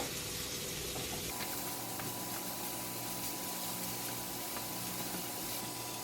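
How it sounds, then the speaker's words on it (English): Mushrooms sauteing in butter in a pan, giving a steady, dense sizzle and hiss that stays constant and close throughout, with no voices. "For the mushrooms, we put in some butter into the pan. You can use oil as well, and we are going to saute the mushrooms first."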